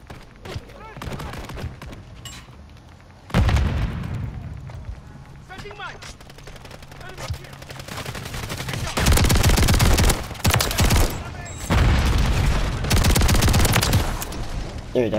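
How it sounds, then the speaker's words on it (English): Shotgun blasts in a first-person shooter video game, fired in loud, rapid clusters of heavy booming shots that grow denser toward the end, with someone talking over the gunfire. "I'm gonna equip the shotgun."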